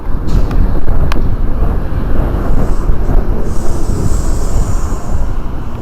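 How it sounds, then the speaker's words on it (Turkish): Loud, continuous headwind buffets the microphone while cycling on a road with traffic, a heavy low rumble that roars steadily throughout with no voices. "Rüzgar karşıdan acayip vuruyor be"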